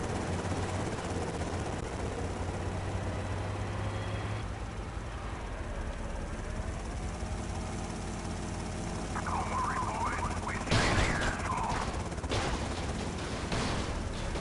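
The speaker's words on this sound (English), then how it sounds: "the helicopter will open the fire from the" Helicopter gunfire against a tank in GTA Vice City, a steady engine drone underlying the scene with bursts of rapid shots and impacts breaking out near the end.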